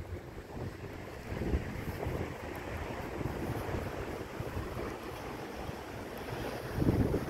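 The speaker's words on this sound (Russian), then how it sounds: "Ветер поднимается опять." Wind rising outdoors in a central park in Sumgayit, a broad rushing gust buffeting the microphone, steady with swells near the start and end, with no voices.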